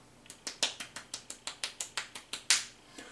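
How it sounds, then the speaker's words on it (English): Soft, polite golf clapping from one person, about fourteen light, evenly spaced claps close by, with one slightly louder clap near the end. "so golf clap,"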